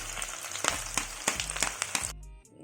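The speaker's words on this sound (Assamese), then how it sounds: "এই কেৰাহীত তেলটো দিলোঁ প্ৰথমতে বিৰিয়ানীৰ কাৰণে এইখিনি ভাজি থওঁ" Onions fry in hot oil in a wok for biryani, a dense, steady sizzle with sharp crackling pops, close and loud, cutting off abruptly near the end.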